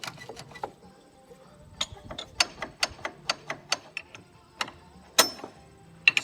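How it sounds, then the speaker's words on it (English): A spring tensioner on a combine head's gathering chains is cranked by hand, giving a sparse run of sharp metallic ratchet clicks, close and fairly quiet, spaced irregularly with brief pauses. "I'm adjusting the tension on this spring that puts the appropriate amount of tension on the gathering chains."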